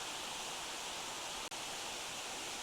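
Steady, broadband rush of water pouring down Piney Falls on a forest hike, continuous and even throughout, with one tiny dropout partway.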